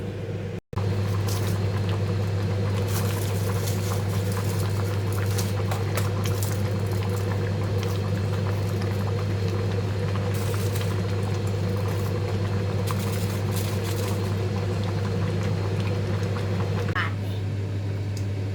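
Thai fish kidney curry (kaeng tai pla) bubbles in a pot, a steady continuous boiling hiss and burble with a low constant hum underneath, close and unchanging throughout.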